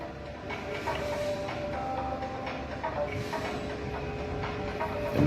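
A metro train bound for El Marg rumbles past on the opposite track at moderate distance, steady rolling noise with faint squealing tones and hiss.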